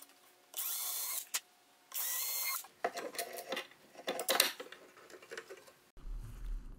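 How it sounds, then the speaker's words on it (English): A power drill pre-drills screw holes into a wooden bathroom vanity in two short, sharp whirring bursts, followed by lighter handling clatter and tapping nearby. "I pre-drill the holes before screwing them in."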